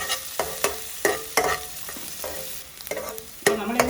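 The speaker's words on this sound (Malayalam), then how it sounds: "ഇതൊന്ന് വഴറ്റാം." Green chilli, ginger and garlic being sautéed in coconut oil, with repeated spatula stirs and scrapes over a steady sizzle, close up and without talk.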